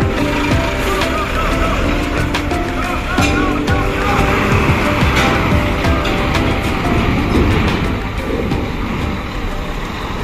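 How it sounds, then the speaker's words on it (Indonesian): A Handoyo intercity bus from Surabaya bound for Pekanbaru passes on the road, its engine and tyre roar loud and close, rising and fading over about ten seconds amid traffic. "Selanjutnya diikuti unit bus Handoyo, Handoyo tujuan Pekanbaru Ujung Batu, keberangkatan dari Surabaya"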